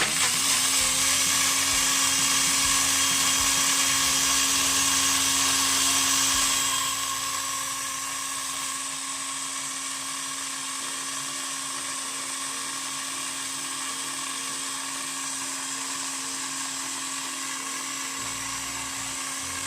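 A BlendJet 2 portable blender runs loud and close with a steady high whine for about six seconds, then drops to a quieter, lower hum that continues to the end.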